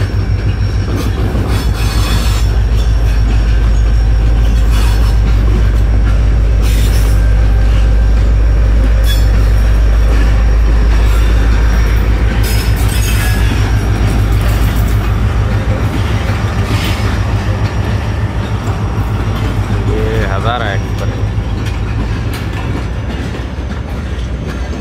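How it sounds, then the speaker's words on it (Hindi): Hazara Express, a Pakistan Railway train bound for Karachi, rumbling steadily at Rohri station platform one, with a continuous heavy low drone, clattering wheels and a brief high wheel squeal near the end. "तो ये दोस्तों आप देख सकते हैं हज़ारा एक्सप्रेस जो कराची जाने के लिए रोहड़ी स्टेशन पे प्लेटफार्म नंबर एक पर"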